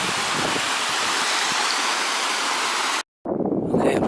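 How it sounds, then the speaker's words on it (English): A tumbling waterfall in Beddgelert Forest gives a loud, close, continuous rushing of water for about three seconds, then breaks off for a moment before resuming more quietly. "There's a little scenic spot on this walk, this tumbling waterfall."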